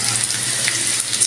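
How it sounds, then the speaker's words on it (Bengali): Ginger, cumin and garlic pastes sizzle in hot oil with already fried onions, a bright, steady crackling hiss close by, with no voices. "আমার পেঁয়াজটা ভাজা হয়ে গেছে, এখন আমি বাটা কষা দিয়ে দিব"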